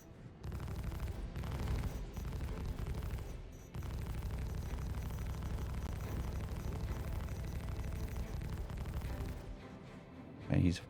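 Spaceship guns fire in the Star Citizen video game in a loud, dense barrage of booming shots that runs almost continuously, breaks off briefly twice and ends in a final burst.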